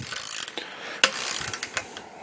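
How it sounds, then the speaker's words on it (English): A wrench ratchets nuts tight onto bolts, giving a run of short, close clicking strokes with brief pauses between them and no talking. "I'm going to start tightening these up."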